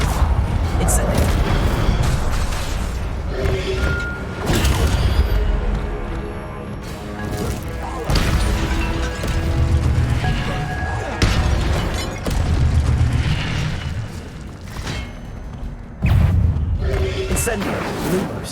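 Incendio fire spells cast in Hogwarts Legacy land as repeated heavy booming bursts with crackling flare, several blasts spread across the stretch amid game sounds and a voice talking.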